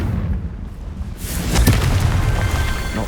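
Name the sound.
Confringo fire spell exploding in video game Hogwarts Legacy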